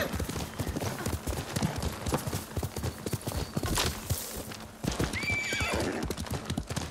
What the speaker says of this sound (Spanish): No sé qué le pasa al caballo ahí, que no hacía caso.